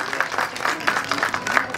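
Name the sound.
loud applause welcoming the chairman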